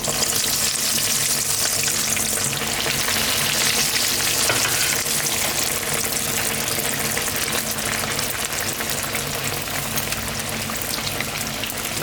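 Breaded chicken box patties coated in breadcrumbs deep-frying in hot oil make a dense, continuous, loud bubbling hiss that holds evenly for about twelve seconds, with no voices over it.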